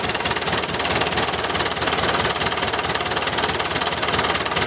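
A David Brown 990 tractor engine idles at low RPM, a steady close-up diesel chug with a constant knocking rhythm throughout and no talking.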